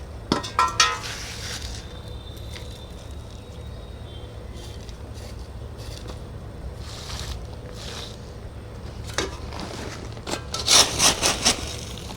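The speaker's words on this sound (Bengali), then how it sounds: "এই যে সিন্ডার সিন্ডার নিয়ে দিয়ে দিচ্ছি দেখুন এই সিন্ডার আমি নিয়ে দিয়ে দিচ্ছি" Cinder potting media poured and scraped into a flower pot while repotting chrysanthemums, giving gritty rattles and clinks. The scraping is steady and fairly quiet, with louder bursts of clattering near the start and toward the end.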